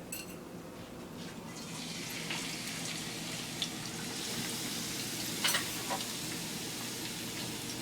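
Onions and garlic sizzle in a hot pan, a steady soft hiss with a few brief crackles and clinks, fairly quiet and with no talking over it.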